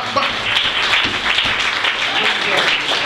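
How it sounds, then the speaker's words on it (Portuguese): Congregation at a lively Pentecostal church service in Itapevi, São Paulo applauding steadily, a dense wash of clapping with voices and shouts mixed through it, close and loud throughout. "Pode aplaudir Jesus."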